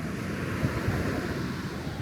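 Ocean waves and surf washing onto a beach, a continuous broad roar mixed with wind rumble against the microphone, steady and fairly close with no talk.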